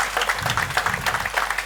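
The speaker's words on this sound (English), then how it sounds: "A big round of applause from the audience side." An audience claps through a round of applause at a university induction day ceremony, a dense, steady patter of many hands lasting the whole stretch with no voices over it.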